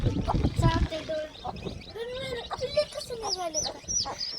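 Newly hatched chicks chirp in thin, rising peeps, several close birds calling repeatedly over low farmyard clucking, while people talk nearby.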